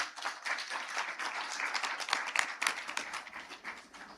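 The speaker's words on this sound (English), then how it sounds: "Let's give it a big, big round of applause." Conference audience gives a round of applause, scattered but steady clapping with sharp individual hand claps, fairly faint and distant in a large room.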